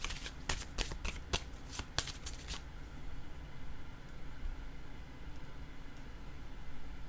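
Playing cards shuffled in a rapid riffle of sharp crisp snaps for a couple of seconds, close and clear, then a steady low hiss of room noise as a card is drawn.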